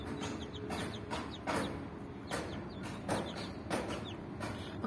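Small chicks of a green-egg laying breed peeping in close, repeated high chirps in irregular bursts over a low background rumble, fairly near and clear with no talking.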